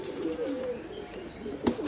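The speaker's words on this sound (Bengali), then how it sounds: "এইখানে দুই তিনটা কবুতর আছে যেই কবুতরগুলো আমার খুবই পছন্দ হয়েছে" Pigeons kept in a cage coo softly and repeatedly at close range, with a brief louder flutter or rustle near the end and no talking.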